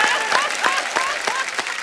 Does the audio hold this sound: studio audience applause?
yes